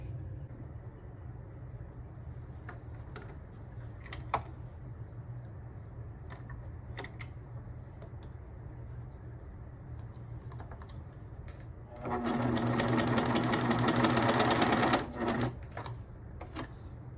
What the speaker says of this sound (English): So now I'm gonna sew this